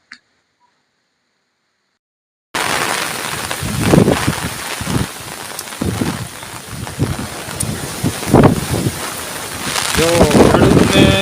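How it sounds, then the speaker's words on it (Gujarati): Heavy rain pours down in a village, a dense, loud, steady hiss with fluctuating gusts that starts abruptly after a brief silence and keeps going to the end. "આ વરસાદ ચાલુ છે"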